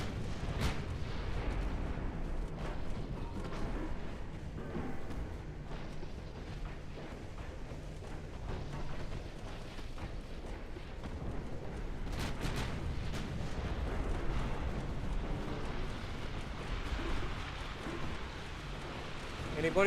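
Naval gunfire from warships in Ultimate Admiral Dreadnought, repeated distant booms and rumbling salvos over a constant low roar, with someone talking throughout.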